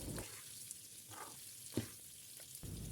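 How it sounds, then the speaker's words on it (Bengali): Fish frying in a pan gives a steady, close sizzling hiss with a few soft crackles and spatters. No voices are heard. "আমার মাছ ভাজাও প্রায় শেষ"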